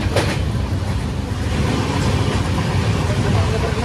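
A passenger train rolls along with a loud, continuous rumble and rattle, heard from on board, with voices talking over the noise.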